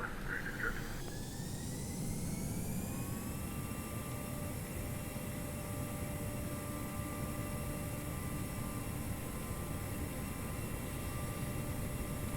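Airliner jet engines in the X-Plane 11 flight simulator spool up for takeoff, a broad steady roar with rising whine tones that level off and hold, while radio voices talk faintly underneath.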